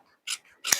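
Two short, crisp scissor snips trim excess lining on a handmade shoe, close and clear with a brief quiet gap between the cuts and no talking.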